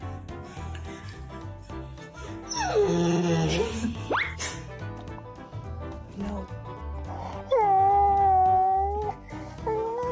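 A dog howls in long, drawn-out, wavering tones, as if singing along, in two bursts over steady background music.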